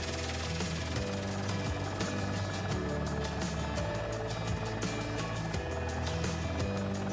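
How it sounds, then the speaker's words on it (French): A helicopter flies over the Marne valley near the château de Boursault, a steady loud rotor and engine drone with rhythmic chopping pulses running continuously throughout. "L'hélicoptère arrive devant le château de Boursault."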